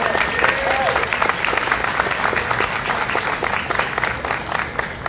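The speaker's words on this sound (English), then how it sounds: "Can we just give him one more round of applause?" A crowd at a state fair ribbon-cutting breaks into applause, a dense, even patter of clapping lasting several seconds with some voices mixed underneath.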